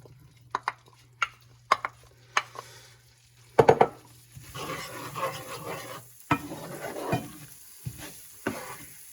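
Onions go into a hot biryani paste on an electric stove, bursting into loud sizzling with clacking spoon strokes and pot scrapes as they are stirred, close up.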